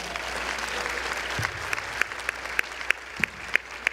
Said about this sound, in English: would you go ahead and give our good God a big old hand clap?